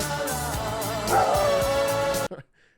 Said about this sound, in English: the dog doing this bark is kind of fun